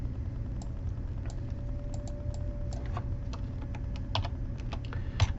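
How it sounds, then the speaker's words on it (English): Keys tapped on a computer keyboard while entering a label in Visual Studio, a scattered run of light clicks, close and moderately quiet over a steady low background hum. "I'm going to just type in"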